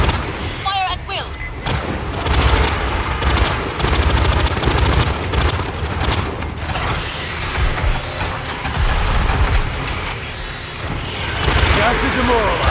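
Dense, continuous gunfire and explosive booms from the sci-fi shooter Aliens: Fireteam Elite, with rapid bursts and heavy impacts layered over a loud game soundtrack, and voices calling out in the mix.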